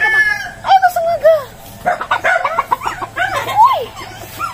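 Rooster crowing with chickens clucking around it on a rural farmyard, the crows rising clearly over a busy stream of hen clucks with light background noise.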